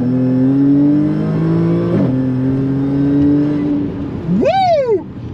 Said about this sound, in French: Le bruit du compresseur, oui, c'est incroyable!